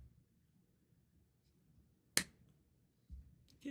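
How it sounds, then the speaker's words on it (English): A single sharp finger snap rings out near the middle, crisp and close against a quiet, low room rumble, with a softer bump of noise near the end. "Can't snap my fingers like I used to."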